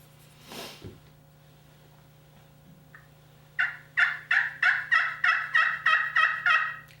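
A slate turkey call played with an Osage orange striker: one faint scrape, then a run of about ten evenly spaced, clear yelps, close and loud.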